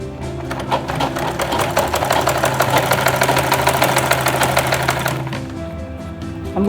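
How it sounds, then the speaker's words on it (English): A sewing machine stitches the body of a lunch bag to its belt, running fast and steadily with a rapid mechanical chatter for about five seconds before slowing to a stop. "Then I sew."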